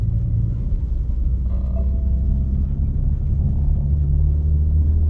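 A boosted Honda Accord engine runs steadily near the rev limiter, a loud, continuous low rumble and drone that holds for about five seconds, with a brief higher-pitched tone partway through.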